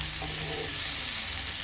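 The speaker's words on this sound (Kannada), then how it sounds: "ನೀಟಾಗಿ ಫ್ರೈ ಆಗುತ್ತೆ" Okra (ladies finger) frying in oil in a pan for a bhindi sabji, giving a steady close sizzle with faint stirring scrapes and no talk over it.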